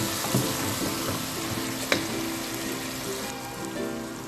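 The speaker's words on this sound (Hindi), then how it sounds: "बस अभी मैं लहसुन अदरक और प्याज में ही चिकन को भून रही हूँ।" Chicken frying in a pan with garlic, ginger and onion, a steady dense sizzle throughout with a few stirring knocks, one sharper clack near the middle.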